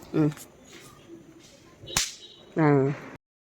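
A single sharp garlic firecracker bang cracks out once at Diwali, loud and close, between quieter stretches of background noise and brief voices.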